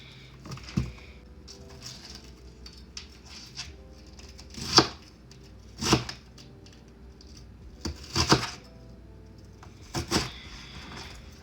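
Knife slicing through ingredients for Jamaican cabbage and corned beef, a handful of sharp, separate cuts spaced about a second apart against a quiet kitchen background.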